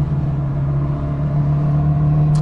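A car engine idles and revs steadily with a strong low hum, holding a constant loud drone close by throughout, with no talk over it.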